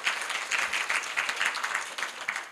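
Audience at a Korea University business school startup demo day breaks into sustained applause, a thick, even wash of many hands clapping with no talk on top.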